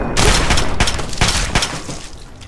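Shotgun blasts in Fallout 3, a few loud, close booming shots in quick succession, each with a sharp crack and short decaying tail, with no voices over them.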